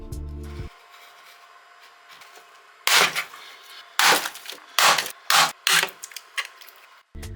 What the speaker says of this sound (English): Then I take a 3mm plexiglass sheet and cut it to fit my